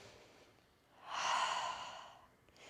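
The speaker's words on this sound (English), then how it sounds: "Breathing." A single slow, audible exhale during a yoga sun salutation flow swells and fades softly over a quiet background.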